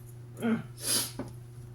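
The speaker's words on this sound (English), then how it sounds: "I want to sneeze. I beg your pardon." A single person's sneeze, a brief breathy burst followed by a sharper explosive release, close and moderately loud over a steady low hum, with no talk.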